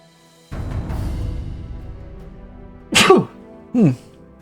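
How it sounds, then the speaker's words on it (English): Two sharp, loud sneezes in quick succession in Europa Universalis IV, each a sudden burst, over a low rumbling background. "Suddenly sneezing."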